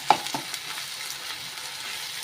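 Ginger and curry leaves are sautéed in a pan for Kerala inji puli, a soft sizzle with a couple of quick spatula scrapes at the start, close and fairly quiet.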